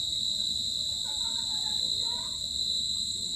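Crickets chirp at dusk in a Bangladeshi village with a steady, shrill, unbroken trill over faint low background noise, with no voices.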